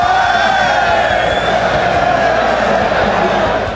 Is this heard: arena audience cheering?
yes